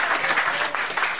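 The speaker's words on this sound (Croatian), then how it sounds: "Specijalni gost, Gavrilo Vulović, Gaša, i jedan aplauz" An audience claps for a special guest at a children's show, a dense, steady burst of applause that fills the short moment without any voices over it.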